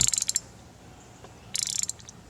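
Ratchet with a loose-fitting 5/8 socket working the spark plugs on a neglected Yamaha F70 outboard, two quick bursts of rapid clicking separated by a quiet pause, close and fairly faint.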